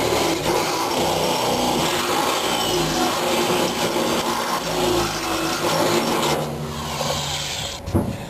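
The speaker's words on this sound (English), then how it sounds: "So we'll put the bigger drill in." A power drill with a bigger bit bores into a pickup truck bed, a continuous loud grinding whine that holds steady before fading near the end.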